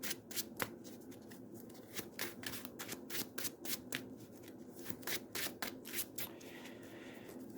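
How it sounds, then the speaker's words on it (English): A deck of Marvel Champions game cards is shuffled up close, with rapid riffling bursts and crisp repeated flutters over several seconds, and no voices. "Let's shuffle up Rogue and deal ourselves 6."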